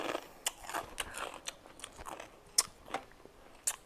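Crispy pork rinds are bitten and chewed up close, giving a series of sharp crunches and crackles with quieter chewing between them.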